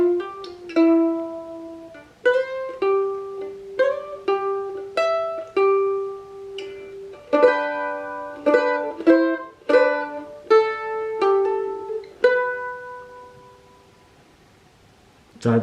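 Mandolin playing part of a song slowly, clear plucked single notes in a deliberate melodic line, close and alone, fading to a ringing tail near the end.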